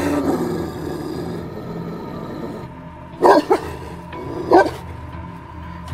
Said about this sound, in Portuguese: O bicho, quando percebeu a presença de Arthur próximo, latiu e rosnou, quase que instintivamente.